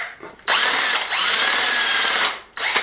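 A hammer drill on hammer mode, speed 2, bores through a stone wall, a loud sustained grinding whine running in two long bursts with a short pause between and a fresh start at the end.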